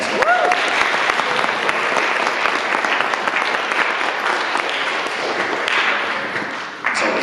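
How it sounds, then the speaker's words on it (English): A high school winter concert audience gives a sustained round of applause, dense clapping filling the hall with a few sharper nearby claps, fading slightly near the end. "Can everybody give a nice round of applause to Miss Kayla Pardew, the band director from"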